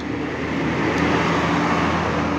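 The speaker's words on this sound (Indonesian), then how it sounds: "3 bus berangkat bersama" Buses departing together from Purabaya bus terminal, a steady loud engine rumble with broad traffic noise, close by and continuous, with no speech.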